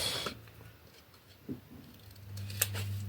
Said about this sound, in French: On découpe les petits coins.